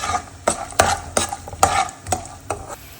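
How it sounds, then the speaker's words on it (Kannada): Peanuts frying in a pan for temple-style puliyogare, with a spoon scraping and stirring in sharp, rhythmic strokes about every half second over a soft sizzle. "ಇದು ಕಡಲೆ ಬೀಜ ಫ್ರೈ ಆಗಿದೆ"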